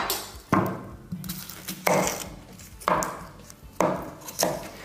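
An onion is sliced lengthwise with a knife on a cutting board in a home kitchen, giving four or five sharp, separate knocks spaced about a second apart, close and clear with no talking.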